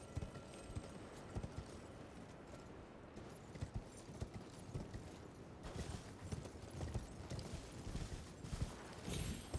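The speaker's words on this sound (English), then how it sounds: "I don't know if the horse will be able to make its way all up that." A horse gallops in the video game Elden Ring, rapid clip-clop hoofbeats running steadily and fairly quietly throughout, over a low ambient bed with no talk.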